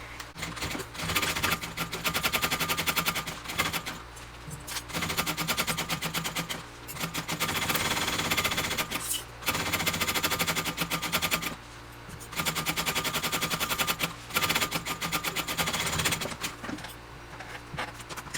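A sewing machine bastes a backpack flap from the foam side, running in loud rapid bursts of stitching separated by short pauses, close up with no talk.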